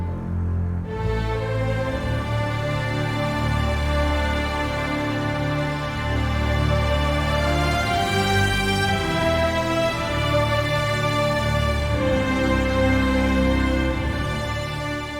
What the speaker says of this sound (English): So the strings together sound like this.